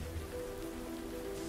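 Steady rain falling outdoors on a farm, a soft continuous patter with a low hum running underneath, with no voices.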